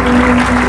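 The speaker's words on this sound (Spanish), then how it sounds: "¿Por qué no le das un fuerte aplauso al Señor?" A church congregation at a Spanish-language service breaks into loud applause, a dense continuous wash of clapping with a steady tonal hum underneath, brief and close.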